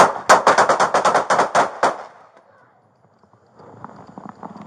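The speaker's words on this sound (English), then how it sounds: "shots fired" Gunfire during a police encounter: a rapid burst of about a dozen loud, sharp shots lasting under two seconds, followed by quieter rustling and background noise.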